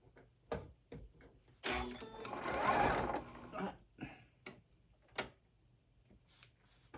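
A sewing machine stitching a Boston bag runs in a short whirring burst of about a second and a half, surrounded by scattered clicks and taps of handling, fairly quiet and close.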